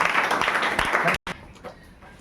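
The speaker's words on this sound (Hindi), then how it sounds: "ताली भाई इनके" An audience at a school prize ceremony claps for students, a dense burst of applause that cuts off abruptly after about a second, followed by a quieter stretch with faint room noise.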